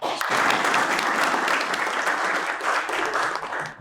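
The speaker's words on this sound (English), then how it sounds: "Why don't you go ahead and give yourselves a round of applause?" An audience of Harlem small-business owners applauds at a bank-sponsored business event, with thick, sustained clapping from many hands that stays loud and fairly even before tapering slightly at the end.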